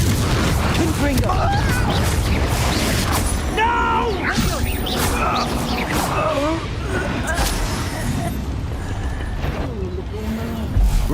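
Confringo spell cast in the Hogwarts Legacy video game, heard as a crashing burst amid game effects, clanking mechanisms and whooshing magic, with chirpy creature-like sounds and background music running throughout.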